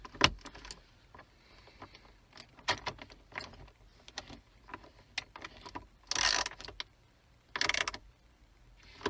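Torx bolts being tightened on the center console lid hinge of a 1997-2002 Ford F150 or Expedition, giving scattered close clicks and ratcheting taps with a few louder rattling bursts, and no talk.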